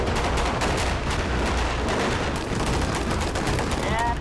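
Staged gunfire effects on a film set for a Benghazi war drama, a dense, continuous barrage of loud shots and bursts filling the whole stretch with no clear pauses.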